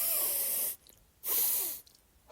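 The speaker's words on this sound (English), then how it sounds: "the physiological sigh, which is a long breath taken in, followed by a short breath, followed by a long exhale." A person breathes in a physiological sigh, with long inhales and a long exhale as loud airy hisses close to the mic, separated by brief quiet gaps.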